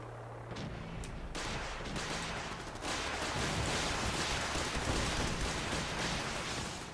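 In the Fallout video game, heavy automatic gunfire and blasts roar continuously. The bursts start sparse, then build to a dense, loud barrage that persists to the end.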